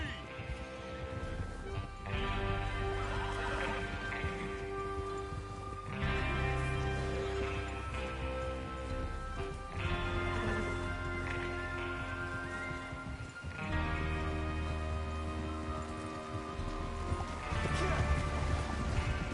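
Horses ridden by a gang of outlaws setting out for a train robbery in Red Dead Redemption 2, their hooves clopping steadily beneath a loud, continuous orchestral score.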